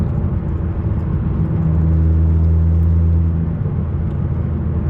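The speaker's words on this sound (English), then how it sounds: "That way you guys can hear the exhaust and all that, the car right after." Deep, loud rumble of a Nissan GT-R R35 exhaust at close range, a steady low drone with a rising whir as revs climb briefly in the middle, no voices.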